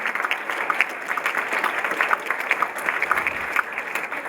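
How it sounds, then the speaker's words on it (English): A conference audience applauds its speakers, a dense, steady patter of many hands clapping nearby that holds throughout at even strength. "if we get a round of applause for all of our speakers"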